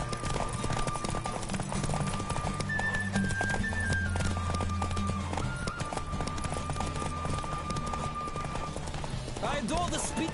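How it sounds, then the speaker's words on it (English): A horse gallops with rapid, steady hoofbeats in The Witcher 3 video game, heard under a continuous game soundtrack with sustained musical tones throughout. "Don't spare the horse."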